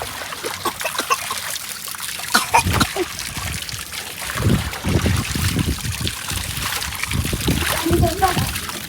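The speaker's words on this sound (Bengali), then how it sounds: "এবার পানি ছেড়ে দাও" Tap water runs and splashes steadily through a baby's bath, with a voice and adult talk breaking in over the continuous trickle.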